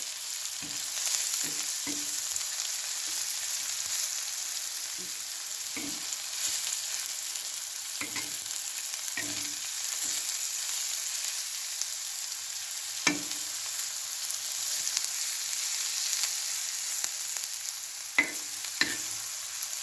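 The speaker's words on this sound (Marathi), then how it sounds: "कांदा भाजून घ्यायचा ब्राऊन होईपर्यंत" Two medium onions fry steadily in a deep, slightly concave pan, a continuous hiss of sizzling oil broken by occasional scraping stirs and light knocks of a spatula, with no talking.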